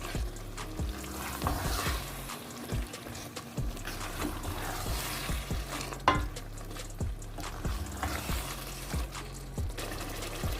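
About 800 grams of boneless chicken sizzles steadily in a pan for bhindi chicken, with a regular series of spatula taps and scrapes as the pieces are stirred and browned.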